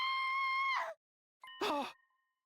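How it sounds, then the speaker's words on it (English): A high, sustained scream from a character in the video game The Hundred Line Last Defense Academy, held for almost a second, then after a pause a second strained, wavering cry that trails off. "I think the scream came from around here"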